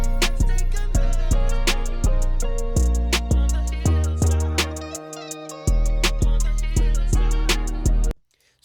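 Hi-hat ticking steadily over a bass-heavy hip-hop beat, played once plain and again with a 14 kHz boost from an Acoustica Ebony EQ, crisp regular hits that stop abruptly at the end.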